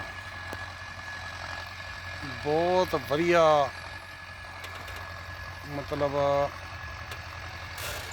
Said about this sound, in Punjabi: ਕਣਕ ਦੀ ਬਿਜਾਈ ਕਰ ਰਿਹਾ ਵਾ ਟਰੈਕਟਰ